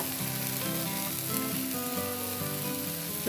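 Oil sizzles steadily under a ragi dosa frying in a pan, a continuous close crackle with faint clinks and no talk.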